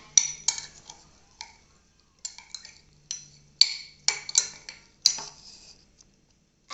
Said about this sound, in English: So let's give it a nice stir.